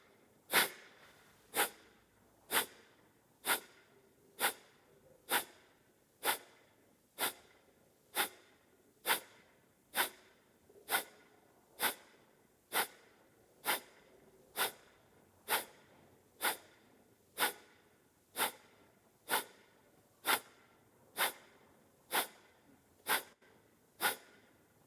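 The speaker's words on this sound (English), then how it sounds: "Inhale comfortably and exhale, start Kapalabhati" Kapalabhati yoga breathing: a steady series of about twenty sharp, forceful nasal exhalations, evenly paced roughly once per second, close and clear with quiet gaps between each puff.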